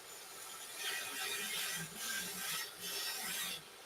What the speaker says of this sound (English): I'm going to cut a similar relief just like we did in the section.